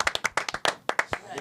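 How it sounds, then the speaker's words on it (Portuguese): A brief patter of scattered handclaps mixed with voices, heard during a Brazilian World Cup–themed studio show; the claps come as several quick, uneven hits over little more than a second. "Eu quero até aplauso pra ela, hein?"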